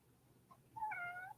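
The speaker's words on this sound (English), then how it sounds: "Can y'all hear my cat?" A pet cat gives one short, clear meow, preceded by a faint chirp, close by in a quiet room.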